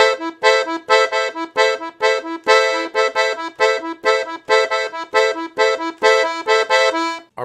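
Piano accordion plays a samba groove, with a low surdo-like bass pattern in the left hand and syncopated tamborim-style chord stabs in the right. The pulsing, punchy chords repeat steadily and loudly throughout.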